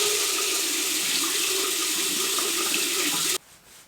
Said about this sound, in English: a nice, fresh, clean washcloth, and I just run this under some warm water